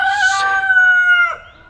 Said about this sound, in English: that's the rooster chuckles